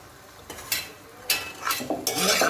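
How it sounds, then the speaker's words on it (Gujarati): Sev khamni is tossed with fresh coriander in a bowl, making soft stirring scrapes and a few light clinks of a spoon against the dish, close-up, with quiet pauses between strokes. "આને આપણે મિક્સ કરી લઈએ"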